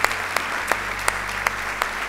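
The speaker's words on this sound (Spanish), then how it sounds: "un aplauso fuerte para esa dama" A church congregation applauds a woman during a pastor's sermon, with steady clapping and sharp accents at a regular beat over a low room hum.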